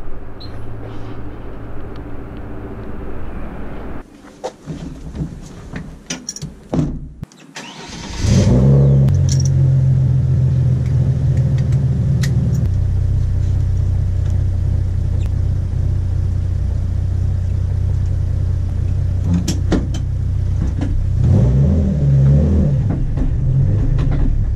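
Drift car engine fitted with nitrous, rumbling loud and steady after a brief startup burst, with a sustained low drone and some revving swells, no talk.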